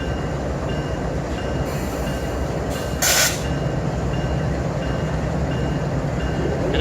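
A CSX freight train with an ES44AH General Electric locomotive rolls past nearby, a steady loud rumble of rail cars and wheels throughout with a brief hissing burst midway.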